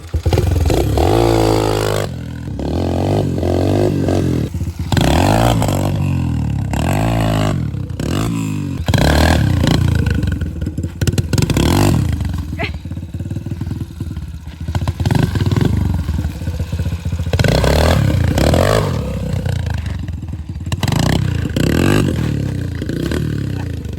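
A Yamaha TTR 125 dirt bike with a big bore kit is ridden in second gear, its engine droning loudly and continuously with repeated throttle surges, close and steady throughout.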